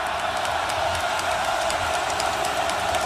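A big football crowd roaring at Beaver Stadium during a college game, a dense, steady wash of cheering and noise that stays loud without a break.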